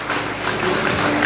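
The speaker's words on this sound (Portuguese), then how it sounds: "Quem pode aplaudir a Jesus por isso" Steady applause from a church congregation, a loud, even wash of many hands clapping together, sustained throughout with no voice over it.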